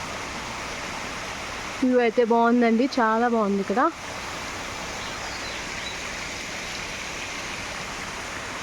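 A waterfall beside a hotel in the Manali hills, Himachal Pradesh, roars as a constant rushing wash of water throughout, while someone speaks briefly over it near the start.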